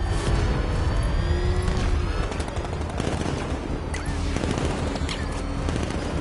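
Sustained gunfire in Batman Arkham Knight crackles loudly and continuously, dense bursts layered with booms and debris over a roaring vehicle chase backdrop.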